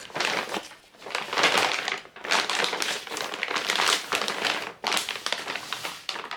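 Continuous loud crinkling and crushing of a plastic bag, close up, with brief pauses in the rustling.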